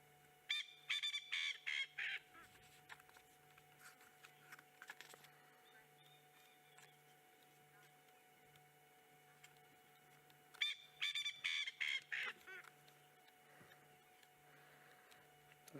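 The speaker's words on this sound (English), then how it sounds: "Very noisy little bird for its size." Coqui francolin (Peliperdix coqui) calling outdoors, two bursts of loud, rapid, rhythmic harsh notes separated by a quieter stretch with faint background birdsong and a steady low hum.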